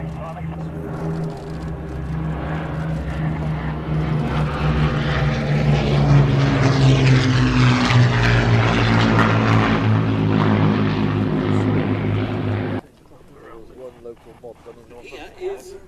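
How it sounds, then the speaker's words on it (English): Archive footage of a propeller aircraft on its July 1976 delivery flight making low flypasses over Duxford airfield: a loud, droning multi-engine roar swells and holds, then cuts off abruptly, leaving faint voices. "making some flypasses over this airfield in July 1976 on its delivery flight into Kiev"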